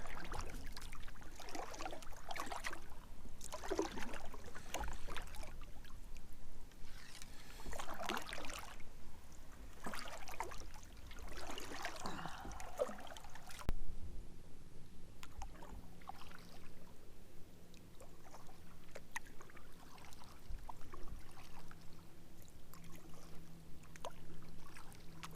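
A kayak paddles across a millpond in steady, soft splashes and water swishes, close and continuous, with faint trickling between strokes and a quieter, calmer stretch in the second half.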